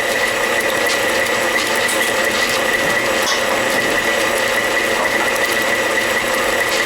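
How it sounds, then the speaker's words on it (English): Electric hand mixer beating goose eggs for a cake, a steady close mechanical whirring and rattling that runs unbroken and fairly loud the whole time, with no talk. "we want to beat as much air into the eggs as we can"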